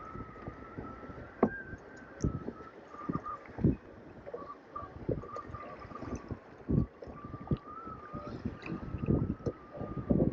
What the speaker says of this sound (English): it's really, really windy and really crowded